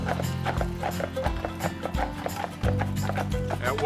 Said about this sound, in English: we're still able to drive over the roads with the horses,